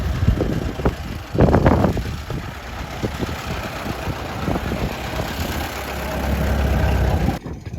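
A vintage Ford Model T engine idles with an uneven, chugging putter, joined by a louder burst of passing engine noise early on, then settling into a steady rumble.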